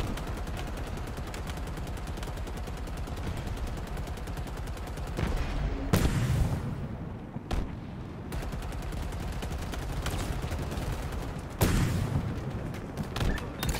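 Sustained automatic gunfire from an aircraft providing cover fire in a shooter video game, a dense rapid rattle of shots with heavier booming bursts rising at intervals, loud and continuous, with no talking.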